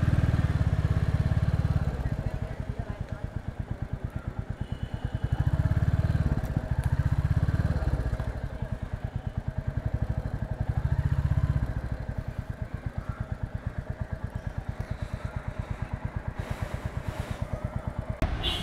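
A Royal Enfield Classic 350 in Gunmetal Grey runs with a rapid, even single-cylinder thump, rising into throatier revs in a few bursts, with faint talk in the background.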